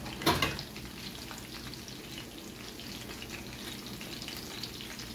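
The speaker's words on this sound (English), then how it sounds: "And then I fry the snapper." Two snapper fish sizzle in a frying pan with steady, soft crackling and popping, preceded by a brief sharper spatter at the start.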